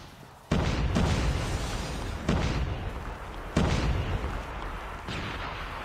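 Frag grenade blasts in Call of Duty Mobile, a mobile shooter match, give three heavy booming explosions with long rumbling tails, loud and close, spaced a second or two apart.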